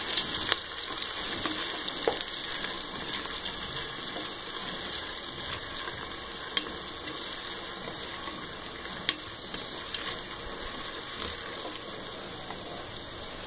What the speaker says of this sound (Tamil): இப்போ நம்ம வெங்காயம் சேர்த்துக்கலாம். வெங்காயம் நல்லா ப்ரௌன் கலரில் வரட்டும்,